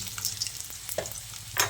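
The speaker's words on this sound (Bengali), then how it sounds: "এবার আলুটাকে দিয়ে ফোড়নের সঙ্গে কিছুক্ষণ ভেজে নিচ্ছি" Potatoes frying in hot oil with panch phoron and a bay leaf, a steady sizzle with brief stirring scrapes and a sharper burst near the end, alone without talk.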